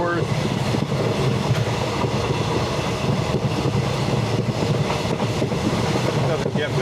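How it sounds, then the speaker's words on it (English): Loud, steady rumble of a moving train carriage with its doors left open in Malaysia, wind and track noise roaring continuously with faint clickety-clack throughout, no talk. "Riding a train with open doors."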